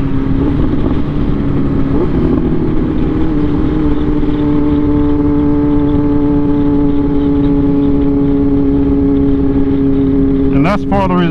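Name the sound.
sport motorcycle revving during a wheelie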